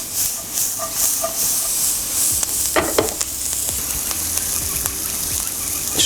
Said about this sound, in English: just going to fry them a little while, just get some color out of it